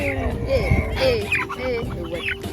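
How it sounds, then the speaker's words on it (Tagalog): Chickens clucking close by at a farm feeding, with short throaty cackles and squawks mixed with people talking nearby. "Chickens."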